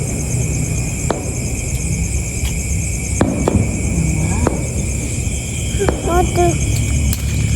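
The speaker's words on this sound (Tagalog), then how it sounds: "Fireworks lang pala." Fireworks go off in the distance, several sharp isolated bangs spaced apart plus whistling streaks near the end, all under a steady background hum with people chatting nearby.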